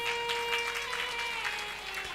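An audience at a devotional Shiva and Parvati story session claps in a quick, steady rhythm, faint and somewhat distant, over sustained musical tones.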